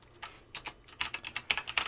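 A computer keyboard clicks under quick typing as a file name is entered, with a rapid run of close, crisp keystrokes that speeds up toward the end, with no talking.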